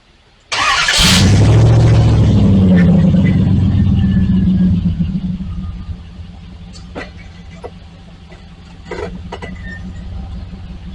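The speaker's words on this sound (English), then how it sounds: "I'm going to put it in drive. I don't think this thing has a positrack rear end, so this wheel should free spin." A car called Rango with a non-positraction rear end, shifted into drive with one rear wheel spinning freely: the engine bursts into a loud, sustained rev for about four seconds, then drops back to a steady low idle.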